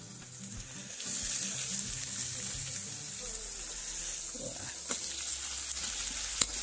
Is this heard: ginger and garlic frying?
yes